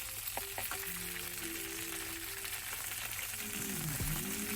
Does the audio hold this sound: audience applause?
no